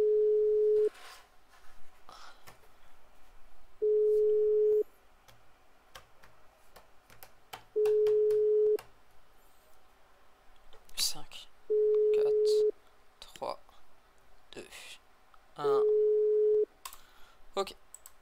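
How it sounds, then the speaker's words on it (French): A telephone busy signal in the video game MindCity sounds as five evenly spaced steady tones, each about a second long with gaps of about two seconds, while someone speaks French over them. "on va appeler du coup ce Léon Adra 3201 en espérant qu'il soit là"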